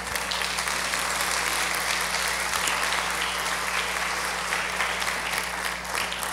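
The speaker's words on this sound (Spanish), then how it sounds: "denle un aplauso al Señor" Church congregation at a women's service applauding, a dense, steady wash of clapping that holds at an even level for the whole stretch, with a low electrical hum beneath and no talk over it.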